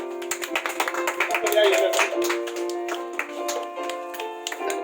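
A crowd of students claps as girls are called forward one by one at an award ceremony, with uneven, overlapping hand claps that rise and then thin out, heard close alongside background chatter.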